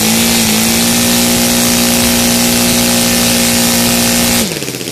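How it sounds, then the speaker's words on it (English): A Saito R200 radial model engine with CH ignition, running on gasoline, holds a loud, steady high rev with a strong buzzing tone before dropping sharply near the end as the throttle is cut toward idle. "it's like probably a 3-4 seconds until the engine comes down to the nice little idle"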